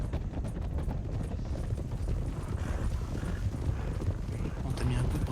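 Horse hooves clip-clop in a steady, busy rhythm, close and fairly loud, mixed with rattling tack and mechanical noise, while people talk over it.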